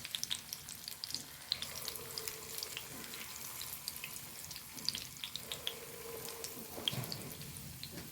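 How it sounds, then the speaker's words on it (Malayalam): Dough dropped into hot coconut oil by wet hands, giving a quiet, crackly, uneven sizzle with sputtering pops and watery splashes throughout. "വെള്ളം കയ്യിൽ നനച്ചിട്ടാണ് ശബ്ദം വരുന്നത് വെളിച്ചെണ്ണയിലിടുമ്പോൾ"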